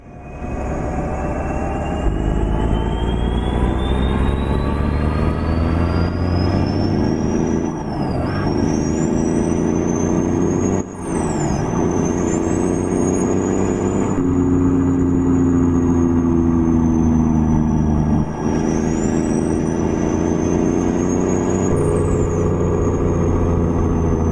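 A custom Cat 3412 V12 diesel engine in a heavy truck in American Truck Simulator drones loudly and steadily with a deep rumble, rising and falling through gear changes as the truck drives.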